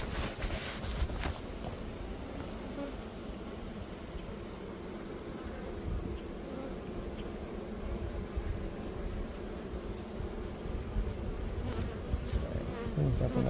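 A dense swarm of honey bees buzzes steadily around a hive outdoors, a continuous close hum with light wind noise and no talking.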